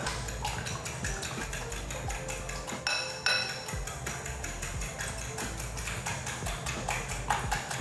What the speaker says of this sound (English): We're mixing, we're beating, making sure everything gets in there.